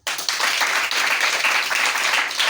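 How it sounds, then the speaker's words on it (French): A church congregation in Matadi claps together during a service, loud sustained applause rising abruptly and holding steady for a couple of seconds. "acclamons d'abord"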